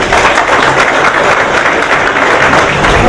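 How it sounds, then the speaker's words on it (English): Loud, dense round of applause fills an awards event hall, steady and continuous from start to finish, with no speech over it. "I'd like to have you all stand and give them a very warm round of applause"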